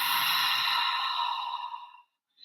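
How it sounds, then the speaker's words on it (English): Ujjayi breath during a hatha yoga class: a single long, steady exhale through the nose with a constricted throat, giving a close, breathy hiss that fades out after about two seconds, followed by a brief faint puff. "we exhale through the nose"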